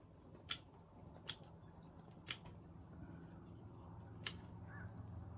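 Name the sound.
trimming dead branches off spruce bonsai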